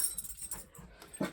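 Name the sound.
dogs whimpering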